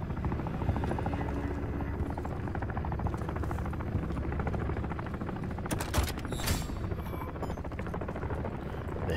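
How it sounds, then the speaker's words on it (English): Attack helicopter in the Call of Duty Modern Warfare 3 video game, a loud continuous rotor thrum filling the whole stretch, with a burst of gunfire cracks near the end and faint talk underneath. "Attack helo's bringing heat."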